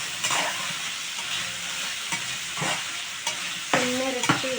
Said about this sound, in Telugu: బాగా తిప్పుకోవాలి, అది పచ్చి వాసన పోయే వరకు.